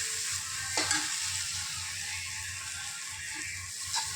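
Vegetables sizzle in hot oil in a pan as they are stirred, a steady frying hiss broken by a few sharp scrapes of the spoon against the pan, close and fairly quiet.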